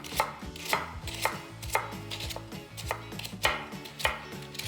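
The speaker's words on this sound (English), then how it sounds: "We're gonna get a couple handfuls of these meringues, just chop through them roughly" A knife chops roughly through a pile of crisp meringues on a board, with about ten regular, close thuds and crunches in a steady rhythm and no talk.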